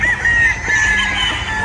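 Backyard chickens clucking with a rooster crowing, close and loud, a steady dense flock sound with no talk.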